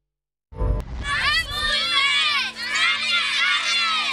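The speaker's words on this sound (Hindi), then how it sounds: "जनूबी वजिस्तान में स्कूल की बच्चियां नारे लगा रही हैं तालीम हासिल करने के लिए।" Schoolgirls in South Waziristan chant slogans at an outdoor education protest, a loud mass of young voices shouting in unison and cheering continuously after an abrupt start.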